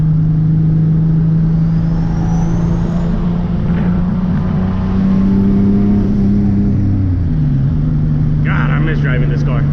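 A turbocharged Nissan 370Z that smokes when stopped drives along with a steady, loud mid-range engine drone, its pitch shifting slightly as speed changes, with road and cabin noise throughout.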